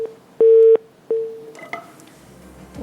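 Telephone line tones after a dropped call on a live TV cooking show, a loud steady beep, a pause, then a shorter beep, followed by faint line noise and clicks.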